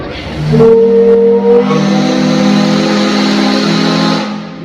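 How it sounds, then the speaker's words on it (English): A loud, deep steam whistle on a New Orleans jazz cruise boat, driven by 200 pounds of steam pressure, blasts in one long sustained tone for about four seconds, then cuts off. "That was 200 pounds of steam pressure you just heard come out of that big whistle up there."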